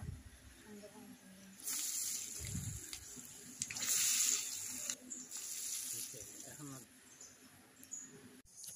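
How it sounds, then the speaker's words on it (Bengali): Onion fritters (peyaju) dropped into hot oil set off a bright, steady hiss that swells and fades over several seconds, with faint speech underneath. "তেলটা গরম হয়ে গেলে একটু একটু করে পেঁয়াজু তেলে ছেড়ে দিব।"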